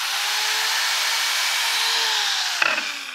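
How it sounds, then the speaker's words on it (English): Power drill driven from a VTOMAN Jump 2200 portable power station, a steady high motor whine held for nearly three seconds, then dropping off with a brief clatter near the end. "As you can see, they're not a problem to power a power drill."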